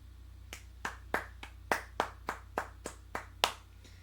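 Hands clapping in a slow, uneven series of about a dozen sharp, separate claps over four seconds, faint against a quiet background hum, with no talk.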